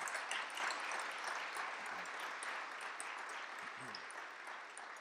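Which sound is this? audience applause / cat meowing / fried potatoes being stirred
audience applause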